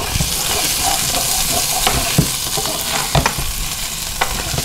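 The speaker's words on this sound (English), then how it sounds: "Get that garlic in there, and we don't want to burn the garlic." Garlic sizzling in a hot pan for steak pizzaiola, a steady close crackling fry with occasional clicks of stirring, no talking.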